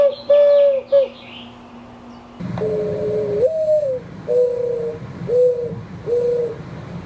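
Doves coo in repeated soft phrases close by, with a higher bird singing thin whistled notes at first, then several evenly spaced cooing calls over a low outdoor background.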